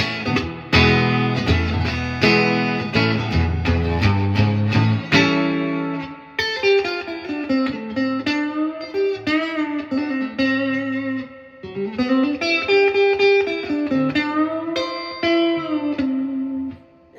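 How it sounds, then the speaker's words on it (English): Electric guitar played through a 1967 Fender Deluxe Reverb amp with its reverb up, loud and close: strummed chords for several seconds, then sustained single-note lines ringing out with a lush reverb tail, alone without talk. "Nice reverb, listen."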